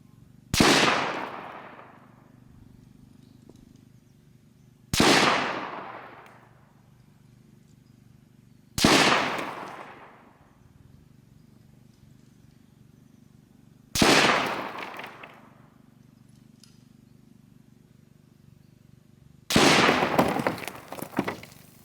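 Five loud rifle shots, .223 and 8mm Mauser, fired at a concrete block outdoors, spaced about four to five seconds apart, each a sharp crack with a long fading echo. A steady low hum runs underneath and no one speaks.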